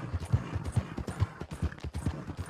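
Horse hooves clip-clop in a steady walking rhythm in Red Dead Redemption 2, distinct close thuds repeating about every half second.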